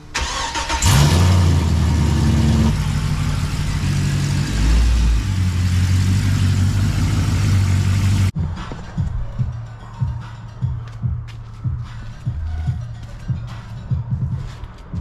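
A Pontiac GTO engine cranks and fires up loudly, idles roughly while the car is moved, then settles into a lumpy, pulsing idle heard from closer by.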